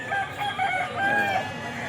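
A rooster crows nearby at a pet market, a loud drawn-out call with another crow overlapping, against a busy outdoor background.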